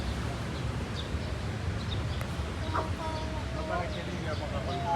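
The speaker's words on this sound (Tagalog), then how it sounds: "Kakaibang manok, no?" A chicken at a zoo gives a few short clucks and calls over a busy background of visitors, with people talking nearby throughout.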